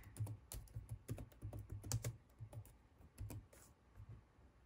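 Typing on a computer keyboard while searching for Pencil 2D, a run of close, irregular key clicks in quick bursts with short pauses, no talking.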